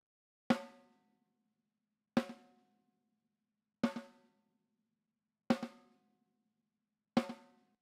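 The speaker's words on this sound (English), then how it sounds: "the snare top is being fed to a bus with the ATR-102" Snare drum top sent fully wet through an Ampex ATR-102 tape machine delay at 15 IPS on 456 tape: five isolated, evenly spaced hits, each with a quick repeat and short decay, crisp and alone against silence.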